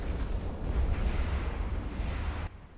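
Weapons fire pounds a Dreadnought in a space battle in EVE Online: a dense, continuous roaring barrage of booming blasts that holds steady for over two seconds and then drops off sharply near the end.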